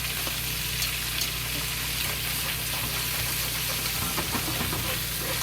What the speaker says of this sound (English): Let's fry the other side.